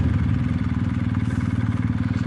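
A motorcycle engine idles up close while being parked at the Hatay motorcycle festival in Arsuz, a loud, steady low throb with rapid rhythmic pulsing.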